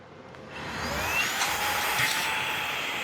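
Small Fantech handheld vacuum running steadily in a 3D print farm while cleaning the printers, a loud, even whine with rising pitch sweeps, close and continuous throughout.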